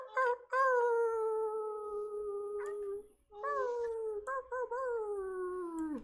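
Several people imitate wolf howls together in an online group gathering, long wavering howls held for seconds, rising and gliding down, with a brief pause before another round.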